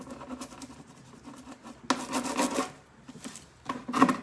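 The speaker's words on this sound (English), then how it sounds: "Rub it all over with the stick." A stick rubbed firmly over adhesive transfer foil on a stool, close scratchy rasping strokes in uneven bursts, quiet stretches broken by a louder run of rubbing and a final brisk pass.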